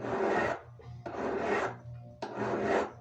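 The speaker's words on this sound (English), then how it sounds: "When you're filing, what you're doing is obviously you're removing scratches" A hand file rasps across a thick metal ring shank in three even, close strokes, each a gritty scraping burst with brief pauses between, and no voices.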